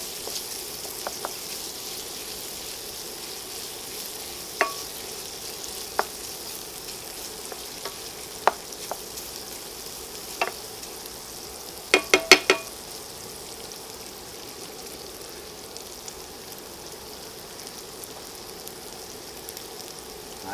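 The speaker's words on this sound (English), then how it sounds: "we're going to place our eggs in for our omelet" Beaten eggs for an omelette fry in a pan with a faint, even sizzle, broken by a few sharp pops and crackles, a small cluster of them near the middle.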